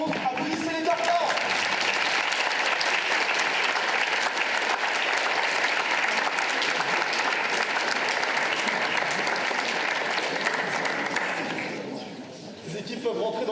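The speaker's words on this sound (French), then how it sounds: "Applaudissez les Tartars." An audience at a student arts society improv show applauds a team in a long, dense wave of clapping that holds steady for many seconds, then thins out and fades near the end.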